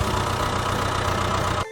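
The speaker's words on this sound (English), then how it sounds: "This is a tractor." A tractor engine runs at a steady idle with a low, even chugging drone, close and loud, cutting off abruptly near the end.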